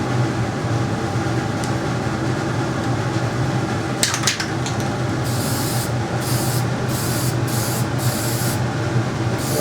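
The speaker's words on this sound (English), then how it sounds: "See, I'm spraying the yellow," A spray can hisses steadily as it sprays yellow paint onto a model helicopter canopy, a continuous loud spray with a few short breaks near the end.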